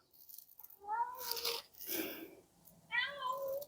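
A farm cat gives two drawn-out meows close by, separated by a rustling, scraping noise in between, with no talking.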